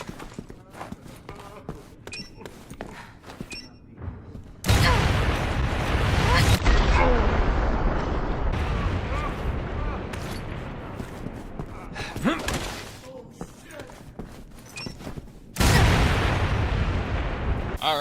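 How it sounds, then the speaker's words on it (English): A remote bomb blows up in Resident Evil 6 with a sudden loud, booming blast that rumbles and decays over several seconds, and a second heavy explosion follows near the end, with someone talking between them. "just like the proximity bomb, the remote bomb has quite an explosion"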